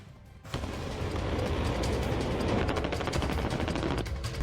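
Dense, sustained gunfire from the Russia–Ukraine war erupts after a brief quieter moment, a loud rolling barrage of overlapping shots and bursts that fills the whole clip.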